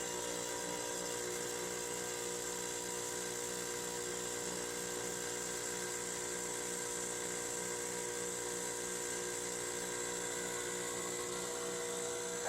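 Ore feeder and jaw crusher plant running at a gold mine, a loud continuous mechanical drone with a steady rapid pulsing throb and a dense whine that holds unchanged for the whole stretch, with no voices.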